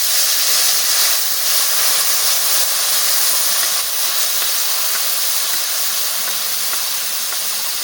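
Water poured onto fried potatoes in a hot pan gives a loud, steady hiss of steam and sizzle that fades only slightly over several seconds, with no talking.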